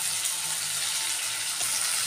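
Steady, close hiss of vegetables such as radish, carrot and jackfruit seeds frying in a pan with salt and turmeric, continuous and even with no voice over it.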